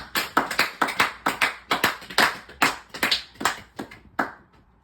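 A church congregation claps in rhythmic bursts of sharp, fairly close applause, about a dozen clustered rounds that fade out toward the end.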